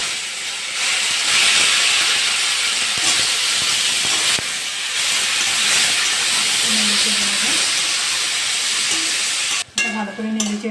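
Chopped tomatoes hit hot oil with tempered spices for Bengali tomato chutney, a steady loud hiss and sizzle running for about ten seconds before stirring clatter at the end.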